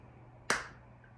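One soft, sharp hand clap made overhead during a yoga breathing exercise, alone and fairly faint in a quiet room.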